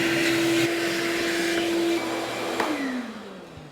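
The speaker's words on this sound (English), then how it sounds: "I guess that's one of the few times I'll ever have to vacuum a snowblower." A vacuum cleaner runs steadily, loud and close, as it sucks metal filings out of the impeller of an Ariens Deluxe 24 snowblower, its tone dropping partway through as the nozzle meets the blades.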